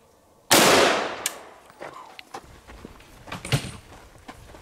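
A short-barrel AK rifle fires a single loud, sharp shot up close, and a long noisy tail dies away behind it, followed by scattered clatter and knocks.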